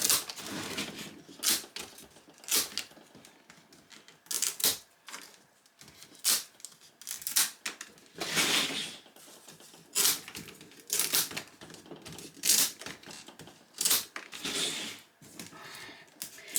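Scissors trim stray fiber ends on a woven market basket. Close, irregular snips and crisp crinkling rustles repeat through the stretch, with no talking.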